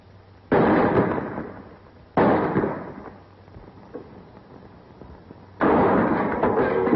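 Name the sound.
gunshots in a western film shootout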